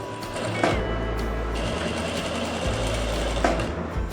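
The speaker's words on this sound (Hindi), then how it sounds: "तो अब हमने एक सिलाई इसके ऊपर चलानी है" A sewing machine stitching fabric for a pleated palazzo, running with a steady close mechanical whir and rapid needle chatter, with brief clicks where the pace shifts.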